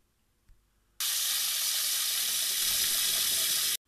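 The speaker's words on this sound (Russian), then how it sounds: "Вот залил водой" Tap water pours into a pot over frozen chicken legs, starting abruptly after a brief clink and running as a loud, steady rushing hiss for almost three seconds before cutting off.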